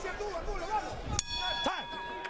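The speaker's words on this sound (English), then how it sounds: "Listen for the Angulo bell" A boxing round bell rings during a professional bout, with a couple of sharp metallic clangs heard over arena crowd noise and a commentator talking.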